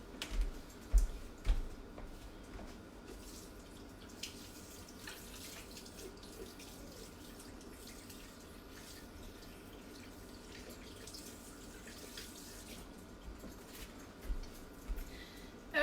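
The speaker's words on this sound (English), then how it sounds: "It's time to wash my hands." Water runs steadily from a kitchen tap during handwashing, a continuous soft splashing close by, with a few clattering knocks at the start and end.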